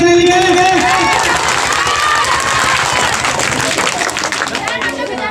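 Audience applause and cheering at a school Republic Day event in Madhubani, Bihar, loud and sustained, with crowd chatter mixed through the clapping.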